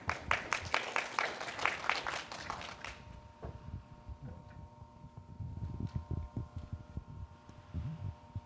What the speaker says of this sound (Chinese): 我们掌声欢迎林副处长